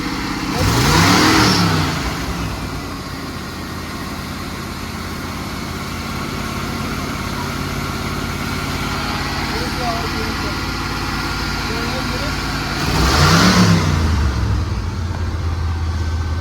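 A 1983 Chevy Holiday motorhome's V8 runs steadily at a high idle on old gas, revving up sharply twice, near the start and again near the end, with people talking over the engine throughout.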